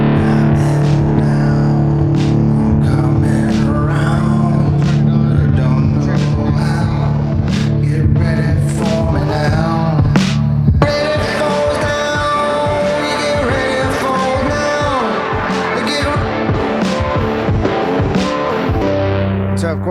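A looped rock guitar verse built in Ableton Live with effects and added layers plays continuously at full level, dense and distorted, growing fuller partway through.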